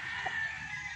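A broodstag rooster on a game farm crows once, short and fairly faint, over a constant high-pitched hum of background noise, with no voices.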